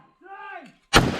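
A single sharp gunshot cracks out loud and close during a tactical shooting course, a sudden broadband blast following a brief stretch of a voice.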